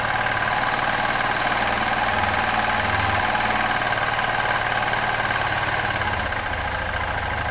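A 2005 Kawasaki Bayou 250 ATV, fitted with a different carburetor after a top-end job, idles with a steady, close, buzzing engine drone and a slightly uneven rumble throughout, with no talk.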